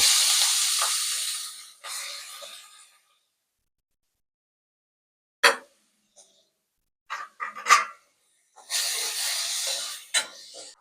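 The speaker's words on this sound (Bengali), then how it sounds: "ওই জন্য আমরা ওই তেলের মধ্যে চিংড়িটা ভেজে নেব" Shrimp frying in a little oil for a Bengali pointed-gourd curry, heard as loud close hissing bursts of spitting oil with a long quiet stretch between and a few sharp crackles, no talking.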